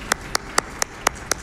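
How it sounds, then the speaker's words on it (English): Crisp claps land in an even, quick rhythm at a speedrun event, six sharp hand claps close by over a quiet background. "you can clap now."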